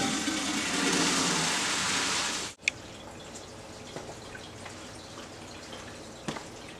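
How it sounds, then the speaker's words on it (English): Aquarium substrate dumped into water in a 5-gallon tank: a loud rushing pour for about two and a half seconds that cuts off abruptly, followed by quiet water ambience with a few faint drips and taps. "I'm just going to dump it in with the water and everything."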